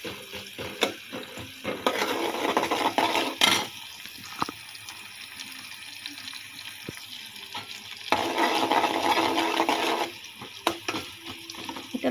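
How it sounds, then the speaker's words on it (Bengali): Onion and garlic hit hot oil in a home kitchen pan while Bengali home cooking is underway, giving a steady broadband sizzle that swells louder in two stretches, with stirring clatter and brief spoon and pan knocks throughout. "এই তো পেঁয়াজ রসুনগুলি এখন দিয়ে দিব আমি তেলে"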